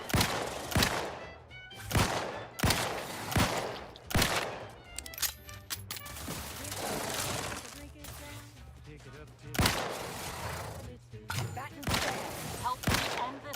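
Rapid bursts of gunfire from The Outer Worlds 2, several loud volleys with heavy thumps repeating through a busy firefight, mixed with game music and effects and occasional voices.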